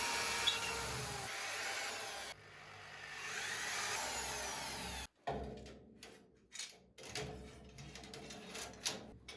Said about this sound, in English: So I drill 6 holes and tap them.